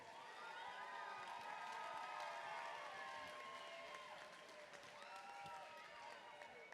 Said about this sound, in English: let me get a big round of applause for Darien Orvin.